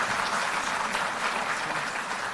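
Audience applause at a political rally, a steady, fairly distant wash of clapping with no break, with no voices over it.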